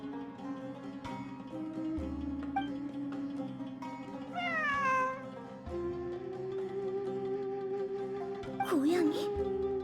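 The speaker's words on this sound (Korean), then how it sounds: "진짜 고양이야." A cat meows several times in a quiet indoor space, with drawn-out rising and falling calls, one longer and louder near the end, over a steady low hum.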